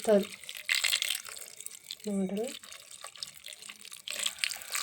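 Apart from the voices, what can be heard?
water poured onto crushed jaggery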